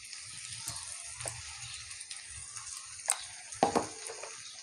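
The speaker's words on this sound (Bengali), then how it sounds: "এই রসুনটা পেঁয়াজটা একটু ভালো করে ভেজে নেবো" Garlic and onion frying in a pan with a steady hiss, then a few sharper scrapes and clatters of stirring toward the end, heard up close with no voices.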